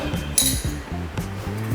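A special glass mug of iced coffee lemonade clinks twice, bright and close, about a second apart, over a steady low tonal background.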